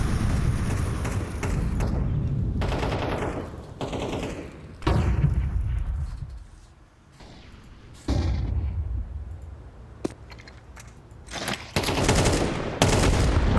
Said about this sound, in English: That's a big nade from Kisserect.